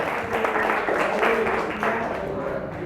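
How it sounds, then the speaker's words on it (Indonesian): Classroom applause from a group of students in a teaching session, a dense, continuous patter of hand clapping at moderate volume with voices mixed in underneath. "tepuk tangan boleh buat kita semua"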